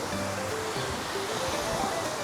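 Calm surf at Bharatpur Beach on Neil Island: a steady, even wash of water and wind with no distinct breaking crests, and no voices.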